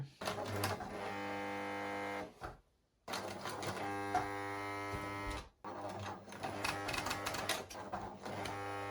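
A home sewing machine from a small sewing kit stitches fabric with a steady motorized whir, running in bursts separated by brief pauses, close and fairly loud with no talking.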